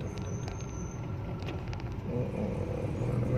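Congested road traffic in a jam: a continuous low rumble of idling and slowly moving car engines, fairly close, with faint higher-pitched squeaks scattered over the steady hum.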